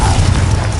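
A Confringo spell blast in Hogwarts Legacy, a short loud booming burst with a heavy low rumble, lasting under a second.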